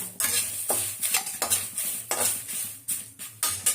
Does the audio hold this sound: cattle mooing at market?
no